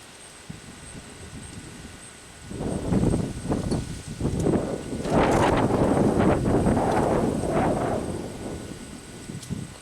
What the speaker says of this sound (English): Gotta wait for the breeze to stop.